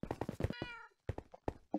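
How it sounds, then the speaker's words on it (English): A single cat meow from Minecraft sounds near and clear, followed by a few short game thumps and knocks with gaps of silence between them. "that fucking cat jump scared me"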